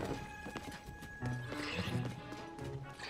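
Horse in the video game Tears of the Kingdom, faint hoof clops and a whinny mixed with game sounds and music, quiet and busy throughout.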